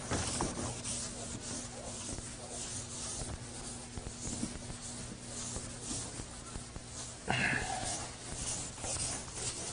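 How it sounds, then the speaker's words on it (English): Steady rubbing and scraping of an eraser on a board, soft and continuous, with a low hum underneath and no voices. "while I'm erasing this"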